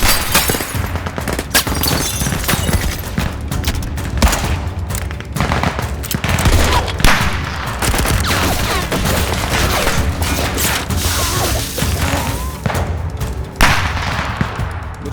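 Sustained heavy gunfire and automatic bursts in a WWII horror-thriller movie scene, a dense, loud barrage of rapid shots with sharp crashes and breaking sounds layered throughout.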